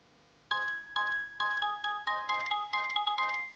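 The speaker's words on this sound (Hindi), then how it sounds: "सबा का फोन आ रहा है" A mobile phone ringtone for an incoming call, a bright electronic melody repeating in regular rising phrases, loud and close with no talk over it.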